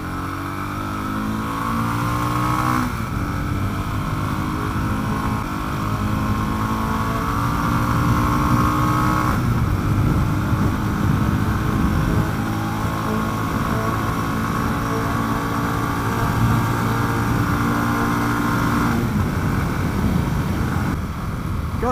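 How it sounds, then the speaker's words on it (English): A Mash TT40 cafe racer motorcycle engine drones and revs continuously, worked hard, pitch climbing and dropping between gear changes, loud and close throughout. "you really have to work this engine to get any great speed out of it"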